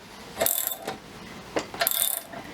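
A ratchet clicks in short bursts while the rear roller sprocket on a Scott Bonnar 45 reel mower is tightened during a rebuild. The clicks are close and moderately loud, with no speech.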